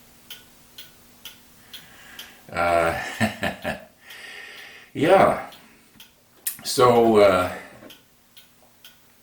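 Wall clock behind the camera ticking in a steady, faint rhythm, heard between and beneath bursts of someone talking and clearing his throat.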